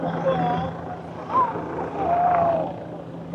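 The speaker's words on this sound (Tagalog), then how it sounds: "Ingay ng helicopter eh." A helicopter drones steadily overhead at a crowded street-side gathering by Taipei 101, a broad continuous rumble sitting under nearby crowd chatter.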